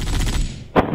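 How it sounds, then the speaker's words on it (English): Gunfire in Halo Reach during a modded Prop Hunt match, a dense burst of rapid shots that fades and then one louder, sharper crack near the end. "That bullet was quite close, actually."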